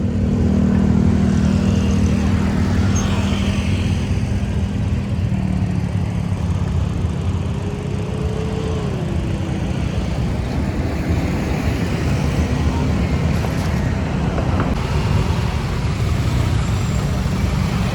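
Busy city street traffic in Manila with motorcycles riding up onto the sidewalk: a continuous loud rumble of engines close by, with a passing engine note rising and falling midway.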